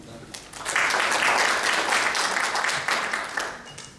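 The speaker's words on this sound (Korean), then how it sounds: "박수 부탁드립니다" Audience applause at a geriatric medicine society lecture, a steady roomful of clapping that swells after a moment and holds fairly loud, easing slightly toward the end.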